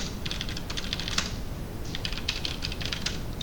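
Someone types a post on a computer keyboard in quick, light clicking bursts with a short pause in the middle, heard close up and fairly quiet with no talking.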